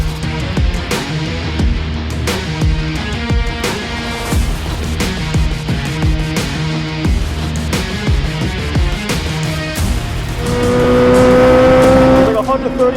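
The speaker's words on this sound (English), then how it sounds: "The most powerful production naturally aspirated V8 ever." A 2023 Chevrolet Corvette Z06 with a naturally aspirated V8 is driven hard, loud engine revving through repeated gear shifts with sharp upshift breaks and a rising high-rpm wail near the end.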